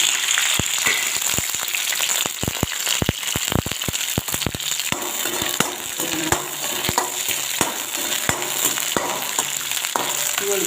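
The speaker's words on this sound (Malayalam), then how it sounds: "5 വെണ്ടയ്ക്ക കഷ്ണാക്കിയത് നമുക്ക് ഇതിലിട്ട് കൊടുക്കാം" Chopped okra pieces frying in hot coconut oil for sambar, a steady close sizzle with frequent sharp pops and crackles, sometimes stirred, with no talking.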